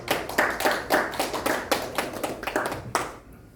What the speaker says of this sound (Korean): 어쨌거나 우리 또 영상이지만 박수 부탁드립니다.